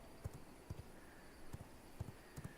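Horse hooves clip-clop in the V Rising video game, five or six soft, low thuds in a loose walking rhythm over a quiet, faintly humming background.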